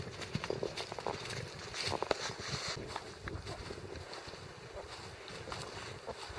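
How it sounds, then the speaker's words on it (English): A pony on an outdoor trail ride gives faint, uneven hoof clip-clops over steady wind buffeting the microphone. "Ashley's leading the trail ride on Ellie."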